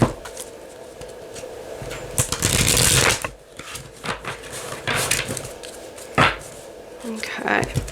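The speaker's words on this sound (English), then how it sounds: "I'm gonna give it a quick shuffle." Tarot cards riffle and slap together in quick bursts of papery shuffling, close by, with soft handling noises between.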